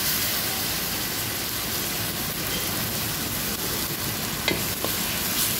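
Bottle gourd and salmon sautéed in a pan with soy sauce, being stirred: a steady loud sizzle and frying hiss runs throughout, with a couple of brief utensil scrapes near the end.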